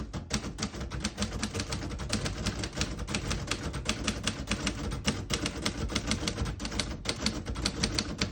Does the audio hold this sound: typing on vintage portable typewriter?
yes